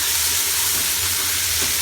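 Pumpkin and okra sizzle and fry in hot oil for a Trinidad and Tobago callaloo, a steady, dense crackling hiss close by with no talking.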